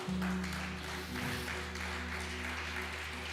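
A church congregation applauds the Lord during a Spanish-language sermon. Soft, steady clapping sits under a sustained musical drone and is fairly quiet throughout.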